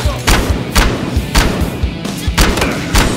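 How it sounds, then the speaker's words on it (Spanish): Gunshots during a police raid on a drug lab in a video game, a rapid series of heavy thumping shots at an uneven rhythm, loud and close. "mira cómo pasan los tiros"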